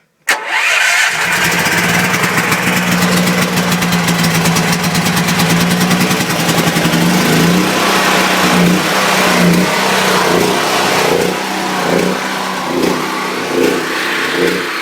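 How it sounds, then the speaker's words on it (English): A Predator generator's engine cranks, catches within a second and runs steadily at a loud, close, even idle with a constant drone, settling slightly toward the end. "Hopefully it'll crank right up since I've already ran it a little bit today."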